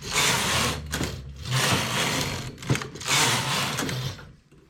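Knitting machine carriage pulled across in rows with thick yarn, three loud close whooshing, clattering passes with short pauses between them, with no talking.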